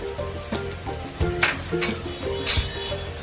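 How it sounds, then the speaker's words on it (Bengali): A spoon scrapes and clinks steadily against a pan while spice masala with cumin powder is sautéed, rhythmic close stirring knocks over a soft continuous sizzle. "এবার এই মশলাটাকে আবার কষবো।"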